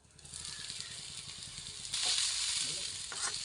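Spiced masala seasoned with salt sizzles in a hot pan for a soya chunks roast as it is stirred: a close, continuous frying hiss that swells partway through, with light scraping and clatter toward the end.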